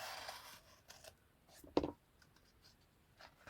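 Scissors snip a page close to the spine of a book about fire damage, a single crisp cut standing out from soft paper rustling and handling noises, with no voice.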